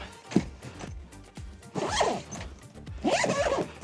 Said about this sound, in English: Zip it up, take my hose,